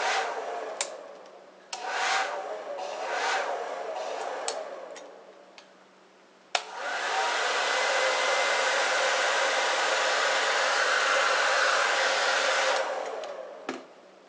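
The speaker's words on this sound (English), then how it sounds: "the hairdryer on low will be no problem" Hair dryer on its low setting running off a battery-powered inverter, a steady broadband whoosh that holds loud and continuous for about six seconds after some earlier intermittent handling noises and clicks.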